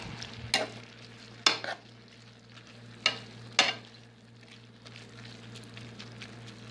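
Chicken cheese steak filling for Puerto Rican pastelillos sizzles steadily in a pan, broken by four sharp scraping stirs of a utensil against the pan over a low hum.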